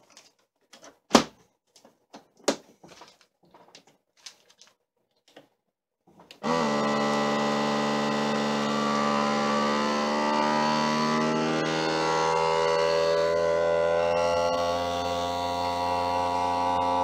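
Vacuum sealer sealing a bag with juices: a few scattered clicks and handling knocks, then the motor kicks in with a loud, steady buzzing drone that carries on for about ten seconds.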